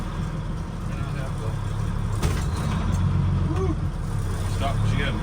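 Ford LN9000 truck with a turbocharged L10 Cummins diesel rumbling as it pulls away on a drive, a steady low engine drone with a brief sharp hiss partway through, and someone talking over it.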